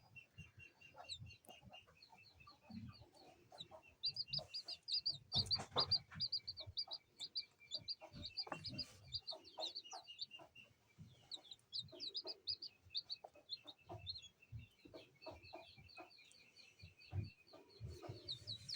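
Hen and newly hatched chick with a pheasant chick nearby, the hen clucking low and soft while the chick repeats thin high peeps in steady runs, with quiet rustling.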